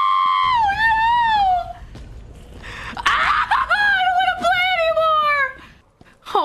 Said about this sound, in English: that was a scream I don't think I've made before